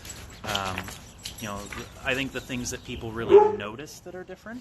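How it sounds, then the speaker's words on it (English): Dogs playing outside bark and yip in short bursts in the background, faint beneath someone speaking close to the microphone indoors. "apologies for the barking because the dogs are playing outside too"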